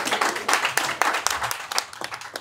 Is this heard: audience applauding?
yes